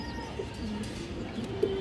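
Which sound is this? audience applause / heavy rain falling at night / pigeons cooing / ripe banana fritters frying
pigeons cooing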